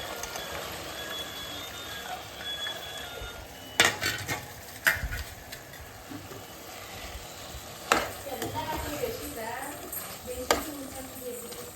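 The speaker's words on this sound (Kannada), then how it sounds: "ಈಗ ರಾಜ್ಮಾ ಬೀನ್ಸ್ನ ಹಾಕ್ತಾಯಿದ್ದೀನಿ." Rajma beans go into a cooking pot with pepper and cumin, bringing sizzling frying, several sharp clunks and clatters of spoon and pot, and a soft background hiss.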